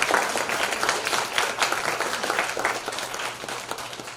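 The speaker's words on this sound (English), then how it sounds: "Give them a nice round of applause." An audience applauds the judges at an investor panel event, steady dense clapping throughout, moderately loud and sustained without a break.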